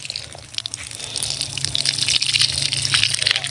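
Water is poured over vegetable garden plants, a splashing gush that grows louder and busier as it goes, with scattered drips and spatters over a faint low hum.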